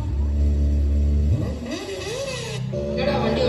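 At a school annual-day Tamil drama on stage, a loud, low vehicle engine rumble idles, then revs with rising and falling pitch sweeps before settling back into a steady drone.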